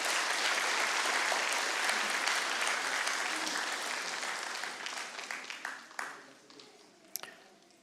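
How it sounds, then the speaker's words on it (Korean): A church congregation applauds warmly during a Sunday worship service, dense clapping that gradually thins and fades into a few scattered last claps. "다시 한번 뜨거운 박수."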